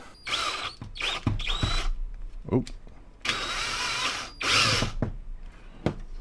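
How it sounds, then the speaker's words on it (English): Bursts of a power drill with a 6mm bit whirring in short and longer runs, close and loud, with a brief spoken exclamation between them. "So now we got a bigger drill bit. This is about a 6mm bit, and we're going to go in this way."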